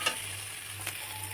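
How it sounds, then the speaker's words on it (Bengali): An egg frying in a pan for Maggi noodles, a steady soft sizzle with a couple of faint ticks, quiet and close, lasting barely over a second. "আমার এটা ভাজা হয়ে গেছে"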